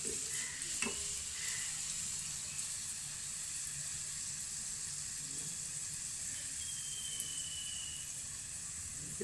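Puri deep frying in hot oil, a steady, dense sizzle and bubbling hiss running throughout at close range, with occasional light clinks from a utensil and no talking.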